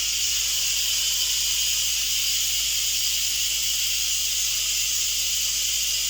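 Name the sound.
pressure cooker quick steam release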